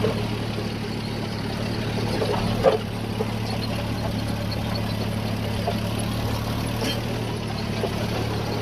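A steady low tractor engine idles throughout, a constant rumbling drone with a brief knock near the middle, no voices.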